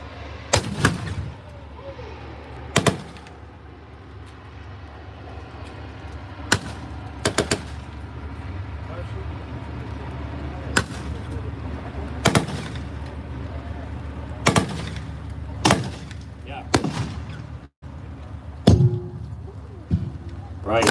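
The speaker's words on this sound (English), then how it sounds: "the 392nd Battery delivered another fire mission" Artillery battery firing a fire mission at a tank battle reenactment, sharp booming reports roughly every couple of seconds over a constant background rumble, mid-distance and loud, with scattered voices between shots.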